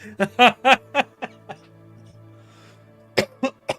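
Several short, loud coughs in a quick cluster, then a pause with faint breathy sounds, followed by another burst of coughing.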